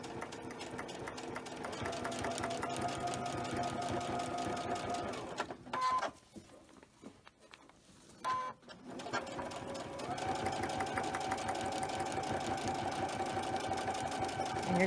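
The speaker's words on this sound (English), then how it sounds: "And you're going to sew it from one side to the other." A sewing machine runs along a fabric seam, its rapid needle chatter steady and close, then a pause of a few seconds with light handling before stitching resumes.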